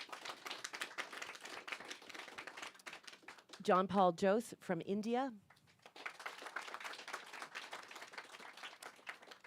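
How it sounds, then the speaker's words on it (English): A conference audience gives a steady round of applause for introduced speakers at a climate and food security event, continuous even clapping that briefly drops under a voice announcing a name and country, then resumes. "Let's have a round of applause for each person"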